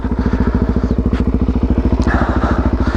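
A Suzuki DRZ400 dirt bike engine runs close by at a steady, loud thumping idle, its single-cylinder pulses evenly spaced throughout with no speech.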